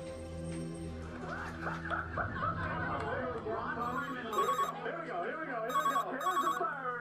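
A telephone rings with bursts of bright electronic trilling over steady music, several rings spaced apart, with chattering voices and laughter mixed in.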